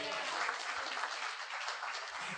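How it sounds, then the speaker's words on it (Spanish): Applause from a church congregation during a Spanish-language sermon, a thin, steady patter of clapping lasting a couple of seconds, fairly quiet and even, with no one talking over it. "Ese aplauso es muy débil"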